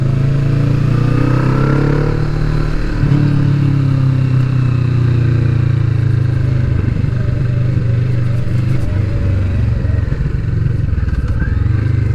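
A 2020 Kawasaki Vulcan S motorcycle engine drones steadily while riding through slow bends, close and continuous, with low rumble and wind noise throughout.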